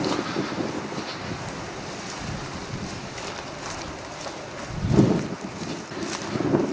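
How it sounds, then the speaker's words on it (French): Strong wind roars outdoors in a continuous buffeting rush against the microphone, with a louder gust swelling near the end, and no voices. "Il y a pas mal de vent."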